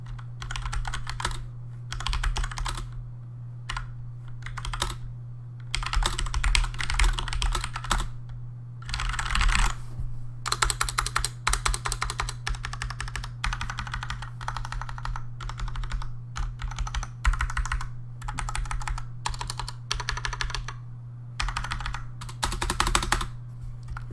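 Steady typing bursts on a Corsair K55 keyboard fitted with Cherry MX Red switches, clicking rapidly and close with brief pauses, over a constant low electrical hum and no talk.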